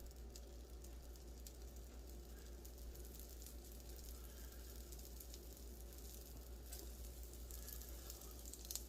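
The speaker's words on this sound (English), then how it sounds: "So I'm just going to put a few in the pan just to test." Pork gyoza dumplings fry in a pan over moderate heat, giving a faint, steady sizzle with a low background hum and no talking.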